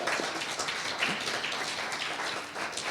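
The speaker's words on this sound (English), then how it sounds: "A round of applause for the general public." Audience applause at a student publication awards night at a university: a fairly quiet, steady patter of many hands clapping together, continuous for three seconds with a slight dip near the end.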